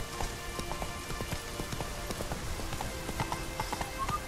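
Roach the horse gallops in The Witcher 3, a quick, regular run of hoofbeats continuing throughout under a hiss of rain, fairly close and even in loudness, with no talking.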